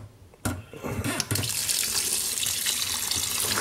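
Running tap water rinses snails in a kitchen sink. After a brief clatter, a strong, close, continuous gush of water splashes steadily.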